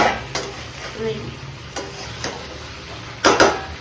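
Chili chicken is stirred in a frying pan, with several sharp scrapes and clinks of the utensil against the metal over a soft, steady sizzle, close up and with no voices.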